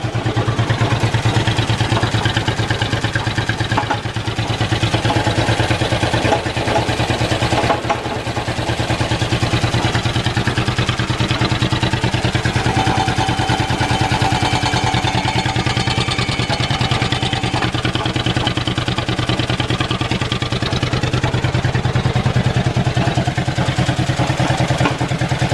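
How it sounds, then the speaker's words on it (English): An old Ford Flathead V8 runs steadily with a loose, clanging pump, a continuous loud low rumble overlaid with rapid metallic clatter, close by and sustained. "Got good oil pressure too, but something's clanging in this pump."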